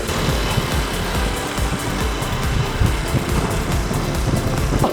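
A Suzuki Choinori 49cc moped with a roughly two-horsepower engine runs flat out at about 20 km/h, its small engine droning loudly and continuously over buzzing wind and road noise.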